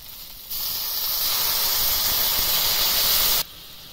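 A sudden, loud steady hiss bursts up as a little water hits a hot pan of cooked-down tomatoes, holding for about three seconds before cutting off abruptly.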